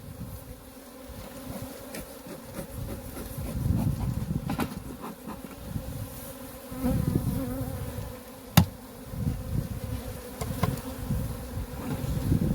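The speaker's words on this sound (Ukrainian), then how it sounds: "бджола ще не облетілася, тут сидить ось таким клубом" Honeybees clustered in a wintering hive hum in a low, continuous drone close by, with a single sharp knock partway through and no voices.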